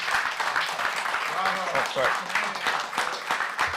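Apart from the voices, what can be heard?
council meeting audience applause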